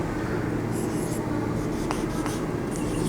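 Chalk or marker scratches across a classroom board, writing out a few short examples in quick strokes, faint under a steady room hiss.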